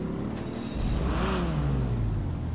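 Modified Entity XXR supercar engine in GTA 5 Online revs up from idle into a rising, sustained roar, loud and close with no talking over it.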